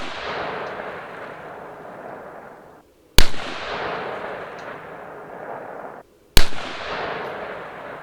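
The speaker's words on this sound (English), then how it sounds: "now let's go ahead and shoot our last confirmation group" Rifle shots fired through a UTG OP3 3-12 scope for a confirmation group: two loud, sharp cracks with long ringing decays, evenly spaced, with the fading tail of an earlier shot at the start.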